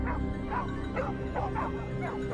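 A pack of hunting dogs out on a wild boar hunt gives repeated yips and barks at a steady pace over a low rumbling background, fairly faint and some distance off.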